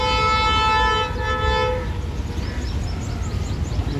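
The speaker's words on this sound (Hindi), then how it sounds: "अब मेहरान एक्सप्रेस भी आ चुकी है HJNU 30R 8208 के साथ" The Mehran Express arrives at Malir Colony railway station in Karachi, its horn blaring loud and steady for about two seconds before fading into the rumble and clatter of the passing train.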